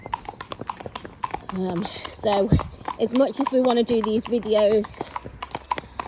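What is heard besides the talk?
horses' hooves clip-clopping on a main road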